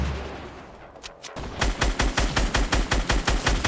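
Gunfire in Fortnite, a couple of isolated shots followed by a rapid, evenly spaced burst of about fifteen loud, punchy rounds that run steadily to the end.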